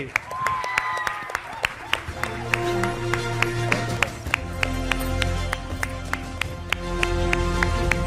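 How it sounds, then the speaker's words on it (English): A crowd claps at an award ceremony for a foundation day event, sharp regular beats running throughout, with music and a voice underneath. "Huge round of applause for Kalyani Shelke."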